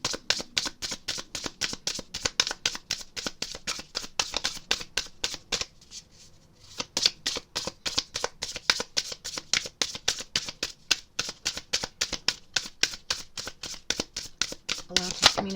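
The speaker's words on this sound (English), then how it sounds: "Please excuse the loud shuffling." A deck of tarot cards is shuffled loudly and continuously in rapid, crisp riffles, with a short pause partway through before the shuffling resumes.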